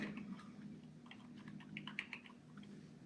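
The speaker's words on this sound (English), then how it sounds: "I have it on my keyboard, so." Quiet clicking of typing on a computer keyboard at a city council special meeting, irregular keystrokes in short bursts over a low steady room hum.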